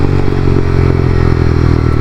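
A Honda CBR300 motorcycle engine running poorly, a loud, close, steady drone with rough clattering and crackling texture throughout, no clear revving.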